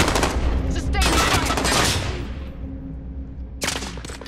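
Gunfire in the video game Call of Duty: Modern Warfare, dense sustained bursts of automatic fire with a brief lull and then another loud burst near the end.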